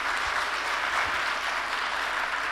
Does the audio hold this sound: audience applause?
yes